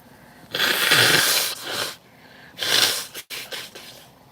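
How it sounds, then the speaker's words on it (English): A person blows their nose outdoors at a park, two loud, close, honking blasts separated by a short pause, followed by a brief sniff. "I need to blow my nose."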